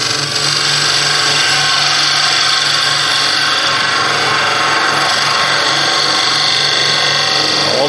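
A skew chisel makes a facing cut on wood turning on a lathe, a loud, continuous scraping hiss held without a break over the steady hum of the machine.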